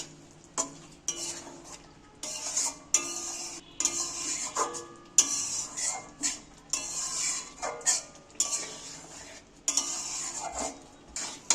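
A spoon repeatedly scraping and clanking against a pan while paneer is stirred into a pointed gourd mixture, close and rhythmic, with a light sizzle underneath.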